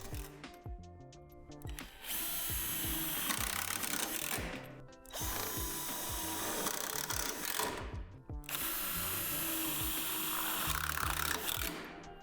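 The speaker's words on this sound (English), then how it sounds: "the screws are designed to go through the metal" A power driver sends screws through the metal backboard frame of a Lifetime adjustable in-ground basketball hoop. Three bursts of buzzing, ratcheting drilling are separated by short pauses, close and fairly quiet.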